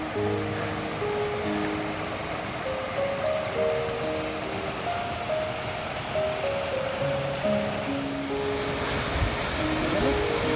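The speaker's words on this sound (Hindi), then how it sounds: "फिर से एक बहुत बड़ा झरना" A steady, powerful roar of a rushing mountain waterfall on the Srikhand Mahadev trek in the Himalayas fills the scene, with a gentle melodic tune playing over the top.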